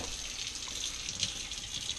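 Kefir grains rinsed under a steady stream of running well water, a continuous close splashing gush with no talk.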